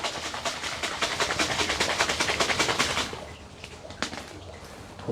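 A glass jar of honey and apple juice rattles as it is shaken hard, with rapid rhythmic sloshing pulses for about three seconds before it stops, followed by a few faint knocks.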